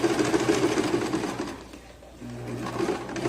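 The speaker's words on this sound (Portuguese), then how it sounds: "Vou costurar daqui para cima." Sewing machine stitching the seam of a pencil skirt, a steady close mechanical whir that runs continuously, dips briefly into near quiet midway, then resumes at a slightly different pitch.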